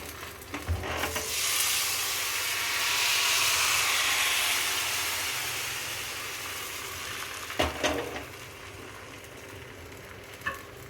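Appam batter poured into a cast iron appam pan sizzles loudly, the hiss swelling and then slowly easing off, with sharp clattering knocks near the start and again toward the end.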